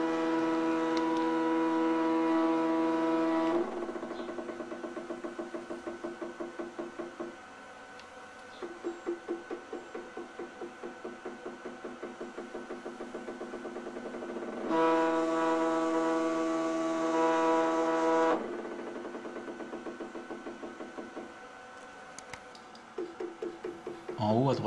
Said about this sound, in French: le moteur va accélérer pour atteindre sa vitesse nominale, puis va se maintenir jusqu'au relâchement de celle-ci